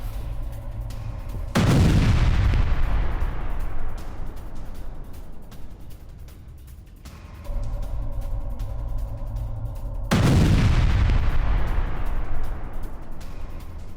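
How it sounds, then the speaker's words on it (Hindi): Two heavy booming blasts at a weapons store in a house, each followed by a long rumbling decay, separated by several seconds of lower rumble. "मकान में बनाए गए वेपन स्टोर में धमाका हुआ है।"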